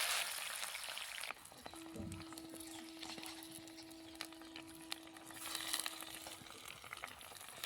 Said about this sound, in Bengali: মাংস চেপে গেছে এদিকে কড়াইয়ে